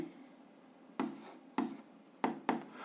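Pen writing on paper while working a 7th-grade algebra problem: a few separate scratchy strokes, the last two close together, quiet and near against a hushed room.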